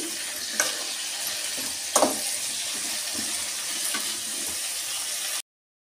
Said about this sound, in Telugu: ఇప్పుడు మనం తరుక్కున్న వంకాయ వేస్తాం. లో ఫ్లేమ్లోనే దీన్ని వేసుకున్నాము.